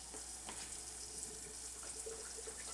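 Tap water running steadily into a sink, warming up for soaking hydroponic fodder seeds, a faint continuous hiss and splash with a low background hum.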